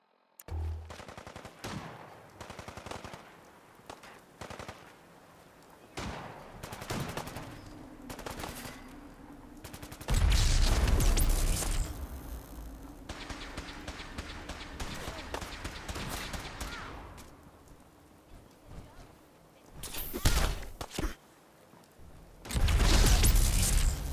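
Gunfire in Fallout 4, a mix of bursts and single shots among game sounds, loud in stretches with louder blasts near the end; no speech.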